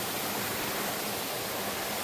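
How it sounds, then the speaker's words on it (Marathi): Steady broadband rush of the perennial Dhodhavane waterfall in Konkan, with small cascades above, loud and continuous with no other sounds for the whole stretch. "वरती पण छोटे छोटे धबधबे आहेत"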